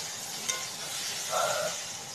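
Food sizzling in a pan on a home stove while being stirred, a soft steady hiss throughout with a brief scrape near the start and a short swell of stirring later, fairly quiet and without talk.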